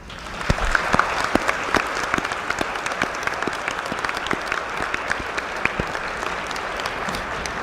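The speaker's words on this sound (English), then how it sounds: "Let's applaud the parents, spouses, children, grandparents," A commencement audience applauds graduates' parents, spouses, children and other family: steady, dense clapping from a crowd that holds evenly throughout without fading.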